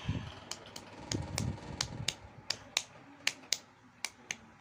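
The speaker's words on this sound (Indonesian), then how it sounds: "Kita tepuk tangan." Sharp palm pats and claps during a postnatal massage, a dozen or so crisp slaps landing in an uneven rhythm, close and fairly loud against a quiet room.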